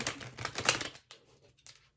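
A bulky tarot card deck is shuffled in a quick, close burst of riffling and flapping card sounds, followed by softer scattered taps and near silence.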